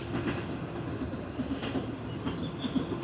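A train rumbles past nearby a train station in Argentina with a steady rolling drone and faint rhythmic clatter of wheels, no voices.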